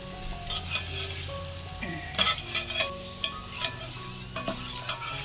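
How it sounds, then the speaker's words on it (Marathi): Raisins fry in hot oil in a pan over a low flame while being stirred, giving a steady sizzle broken by repeated metallic clinks and scrapes of the spoon against the pan. "हे बघा किती मस्त असे आपले मनुके तळलेत टम्म फुगलेत"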